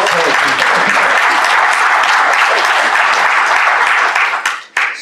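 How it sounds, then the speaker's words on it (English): Audience applause fills a room at a CentOS Dojo panel session in Brussels, dense steady clapping from a large crowd that carries loudly for several seconds before cutting off abruptly near the end. "That was an applause for you."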